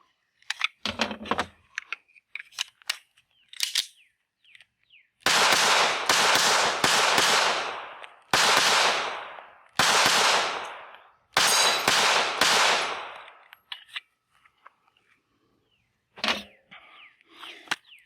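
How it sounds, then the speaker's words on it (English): An IWI Masada Slim pistol firing, heard as several loud sharp shots in quick clusters with short pauses between groups, plus fainter clicks and handling sounds before and after. "So I'm gonna put the headphones on and shoot a couple rounds."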